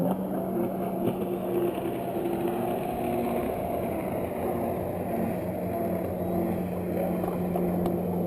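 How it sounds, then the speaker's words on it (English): Steady engine drone of jet skis racing on open water, continuous and fairly loud throughout with a constant whine, no clear passing swell. "There's a jet coming, a jet ski race."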